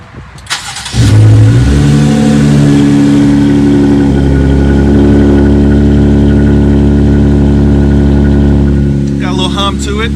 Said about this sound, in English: it's got a 6-cylinder engine in there, so it's not gonna sound like a V8, but it's got some performance sound to it now.